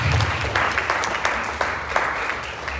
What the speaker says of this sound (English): Let's keep clapping so that she